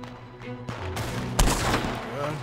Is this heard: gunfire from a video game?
yes